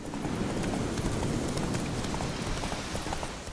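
Horse hooves clip-clop steadily and close in The Witcher 3, a quick continuous patter of galloping strikes over a rumbling ground layer, with no talk.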